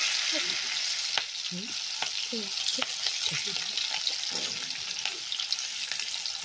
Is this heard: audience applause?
no